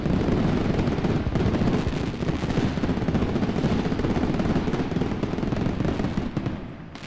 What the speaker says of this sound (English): throw fireworks up on stream